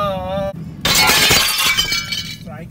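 Glass shatters loudly in a sudden crash that bursts after a brief sung or spoken tone, with the breaking noise spreading and tinkling away over about two seconds, close and sharp.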